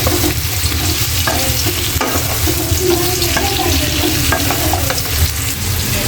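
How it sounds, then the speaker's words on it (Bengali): Loud, continuous sizzling as sweet gourd curry is sautéed in a pan, with repeated scraping and stirring strokes throughout, no talking. "মিষ্টি লাউটা তরকারিটা একটু ভালো করে আমি কষিয়ে নই"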